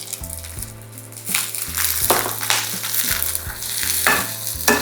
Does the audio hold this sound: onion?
yes